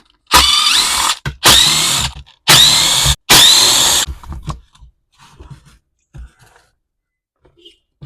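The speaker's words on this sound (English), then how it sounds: "A couple more Torx bits to get the housing off here." Four short bursts of a power drill unscrew Torx screws from the housing of an Echo leaf blower, loud and close, followed by quieter handling clicks and rattles.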